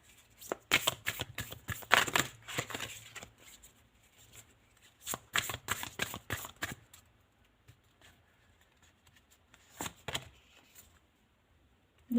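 Tarot cards are shuffled in quick riffling bursts, close and crisp, with pauses between several rounds of shuffling in an otherwise quiet room.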